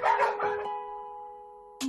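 A dog at an animal shelter gives a couple of quick close barks followed by a lingering whining tone, then another sharp bark at the end, fairly faint.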